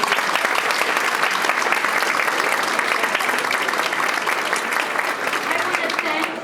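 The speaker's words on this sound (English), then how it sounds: "let's give all these students a round of applause" Dinner banquet crowd applauding students seated at the head table, dense sustained clapping from many hands, steady and loud throughout.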